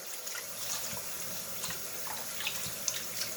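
Water from a kitchen tap runs steadily over chitterlings in a sink, a soft continuous hiss broken by small splashes and drips. The sound is quiet and close, with no talking.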